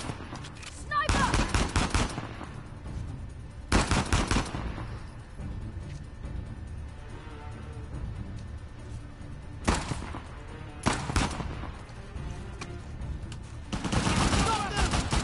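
Sniper gunfire in Uncharted: The Lost Legacy crackles in several loud bursts of repeated shots separated by quieter stretches, with battle noise continuing underneath and voices heard in between.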